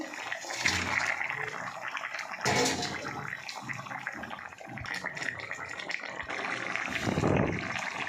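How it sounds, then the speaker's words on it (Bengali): Fish curry broth boiling in a pot, a continuous close bubbling and watery churn with splashy surges, no voices. "আমার ঝোল ফুটে গেছে"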